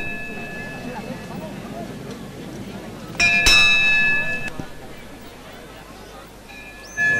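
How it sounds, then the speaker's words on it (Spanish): At a Holy Week procession in Marbella, the mayor strikes a bell once, producing a bright ringing tone that decays over a few seconds above crowd murmur and background noise, with a fainter ring following. "Ha sido el toque de campana por parte de la alcaldesa"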